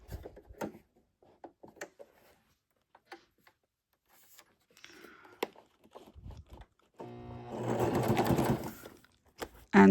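A sewing machine runs a straight stitch on a book-to-mini-album junk journal project, first quiet scattered clicks and handling, then a close burst of rapid machine stitching lasting about two seconds.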